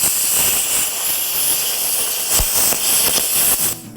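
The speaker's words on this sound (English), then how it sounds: "2, the plasma cutter." Plasma cutter slicing titanium tube, giving a loud, steady, close hiss with brief crackling bursts before cutting off abruptly near the end.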